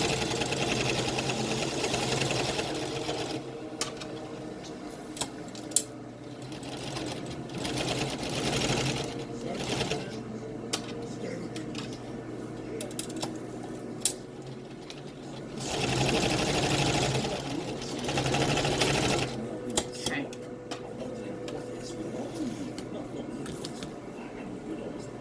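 A sewing machine runs a straight stitch along a dog coat, its steady motor hum and needle chatter continuing through most of the stretch with a few brief pauses, close and moderately loud.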